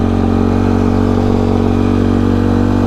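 Yamaha YFZ ATV engine cruising in fourth gear, a loud, steady mid-pitched drone with light mechanical clatter, heard close up and alone without any talk.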